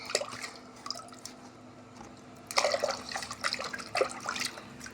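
Water trickles and drips in quiet, uneven bursts as it is poured over young plants at a school garden, close and soft.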